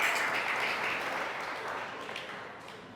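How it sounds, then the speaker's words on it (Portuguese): A church congregation applauds, steady dense clapping from many hands that slowly fades over a few seconds. "uma salva de palmas aos varões guerreiros"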